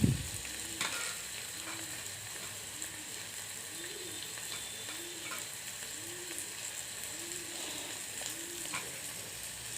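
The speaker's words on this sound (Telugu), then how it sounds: "ఇప్పుడు టమాటా ముక్కల్ని వేస్తున్నాను" Tomato pieces sizzle steadily in a pan for a vegetable curry of potato, eggplant and peas, a constant close frying hiss while a dove coos softly and repeatedly in the background.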